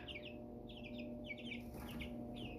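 Week-old chicks peep in a quiet barn, a steady run of small, fairly faint calls repeating over a low background hum, with no one talking.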